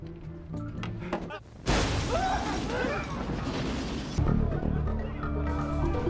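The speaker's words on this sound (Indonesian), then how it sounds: "Dongchul mengambil inisiatif dan meledakkan mobil petugas yang sedang di parkiran." A parked car blows up in a film scene, a sudden loud blast and crash cutting in over tense music and rumbling, followed by a continuing roar and debris noise.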